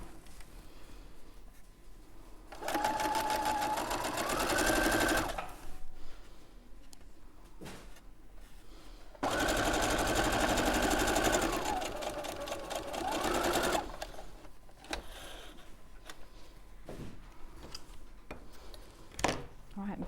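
Domestic sewing machine stitching a seam in two loud, steady motor-driven bursts of a few seconds each, with quieter handling sounds between and no speech.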